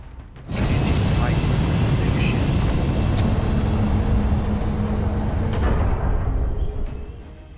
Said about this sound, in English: a big hello to planes passing by